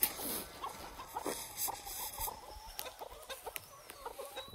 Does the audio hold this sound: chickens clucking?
yes